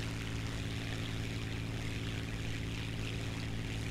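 Aircraft fly overhead in the video game War Thunder, heard as a constant dense propeller engine drone with a steady low hum and broad roar, unbroken for the whole stretch.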